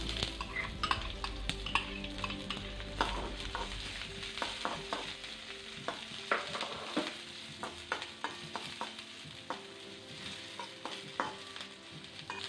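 Dried red chillies fry and are stirred in a pan, with a constant sizzle and frequent close scraping and clinking of a spoon against metal throughout.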